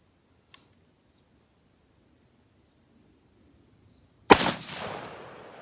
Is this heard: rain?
no